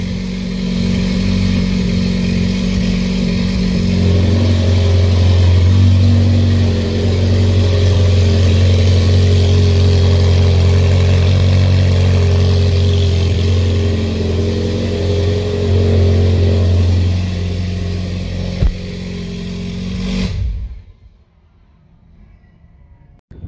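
A Ferrari 488 GTB engine rumbles loudly at close range, idling with a deep throb and occasional swells, then cuts off abruptly near the end.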